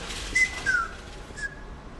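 A few short whistled notes, thin and high, three brief tones over a soft background hiss.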